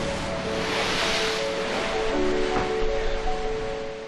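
Rough ocean waves crash against rocks in a continuous loud, rushing roar that swells slightly, with wind-like noise and no voices.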